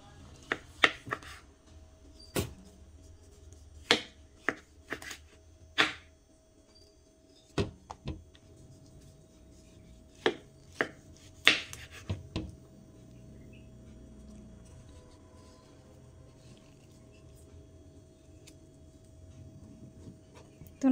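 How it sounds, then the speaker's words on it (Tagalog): A knife cuts through papaya, producing scattered sharp taps and clicks against a board, irregular and close, fading into a quiet stretch toward the end. "Ito na yung papaya, guys. Hiwain na natin siya."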